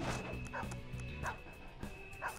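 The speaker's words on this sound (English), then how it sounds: "It's a dog." A dog in the video game Persona 5 Royal barks in a quick, repeated run of short yaps and whimpers over steady game music, with no talking.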